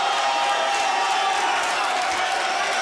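Steady crowd noise fills an MMA fight arena, a constant roar of spectators with murmuring and scattered shouts, loud and unbroken throughout with no clear single voice.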